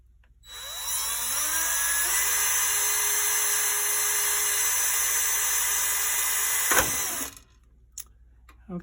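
A small high-speed drill whines as it bores a pilot hole in the back plate of a New Haven Art Deco style clock, a loud steady run rising to speed, then stopping with a few faint clicks after.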